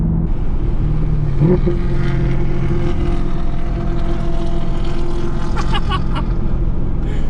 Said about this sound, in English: Damn, his car's loud.